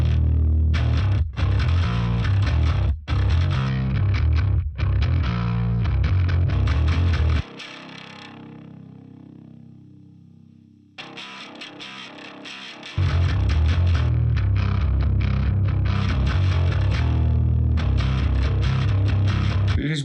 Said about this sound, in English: Let's listen to the bass.